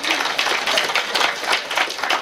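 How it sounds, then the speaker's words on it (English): Brief round of audience applause at a psychic demonstration show, a dense wash of clapping that is fairly loud and steady throughout. "Give her a round of applause for helping me out."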